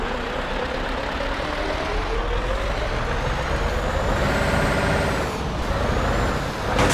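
Steady engine drone and tire rumble from a truck drifting in the TruckersMP driving game on a snowy winter map, continuous and loud with a slowly rising whine and a brief hiss near the end.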